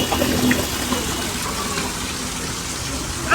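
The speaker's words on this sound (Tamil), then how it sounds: "இங்க ஒரு சின்னதா தண்ணி ஊத்துற மாதிரி வச்சிருக்காங்க." A small water fountain pours steadily at a tourist attraction, giving a continuous splashing gush heard close by under light background chatter.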